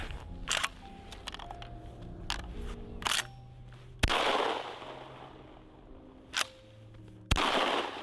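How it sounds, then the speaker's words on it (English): A shotgun firing slugs for practice outdoors gives several sharp, loud blasts spaced a few seconds apart, each with a rumbling tail, between quieter clicks and handling sounds. "might as well put some rounds through it in order to get a little practice"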